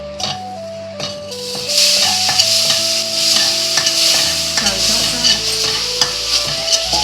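Butter and ingredients for white sauce pasta fry in a pan while being stirred, a loud close sizzle with repeated scraping and knocking of the spoon against the pan, no talking.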